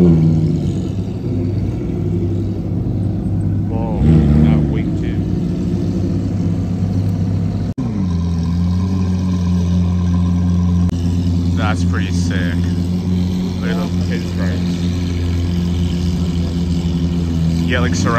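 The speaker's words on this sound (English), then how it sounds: "Like surround sound from this Aventador and this Aventador over here." Two Lamborghini Aventadors sit idling in a parking lot, their deep steady engine drone running loud and close throughout, with a brief rev near the middle and people talking over the rumble.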